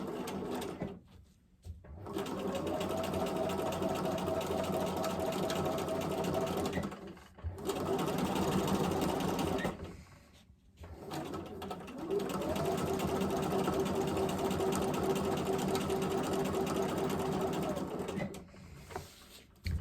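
A sewing machine stitching free motion quilting around a quilt border runs in long, steady whirring bursts, stopping briefly three times between runs, close and clear with no talking.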